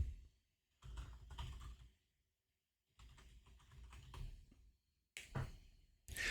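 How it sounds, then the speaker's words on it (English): Bursts of rapid typing on a computer keyboard, close and clattering, broken by short pauses between runs of keystrokes. "we gotta type in a command"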